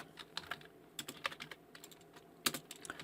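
Typing on a computer keyboard, a quiet, close series of irregular key clicks in short bursts, heard alone without talk.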